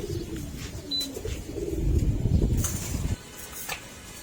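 Pet pigeons coo in low, throaty bursts close by, strongest in the middle, with faint chirps in the background.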